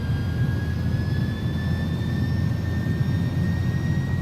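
Airbus A300 jet engines at takeoff power in X-Plane 11 give a loud, steady roar with a broad low rumble and thin high whines rising slowly in pitch, heard alone without voices.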